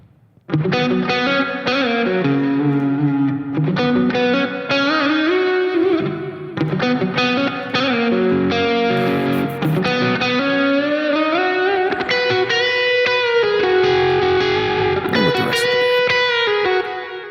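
A distorted electric guitar plays sustained chords and melodic lines through a Neural DSP Archetype: Plini amp plugin, loud and continuous, its tone shifting in brightness at points as the EQ is toggled on and off.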